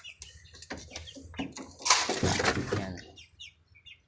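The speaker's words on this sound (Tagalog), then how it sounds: "Dalawang sisiw." Two young chicks, newly bought and kept inside a backyard pen, chirp in brief high peeps, with someone talking over them through most of the stretch and the chicks heard more clearly near the end.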